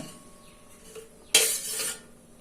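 An empty pressure cooker is set down on a stove with a single close metallic clank, followed by a brief rushing hiss before things go quiet.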